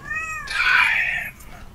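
A cat lets out a single drawn-out meow in a meme compilation, clear and close, rising then fading after a brief high-pitched electronic tone.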